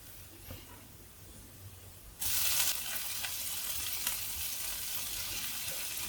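Cooked prawns tipped into a hot pan, bursting into a loud, steady sizzle and hiss of stir-frying that stays strong and close, with no talk.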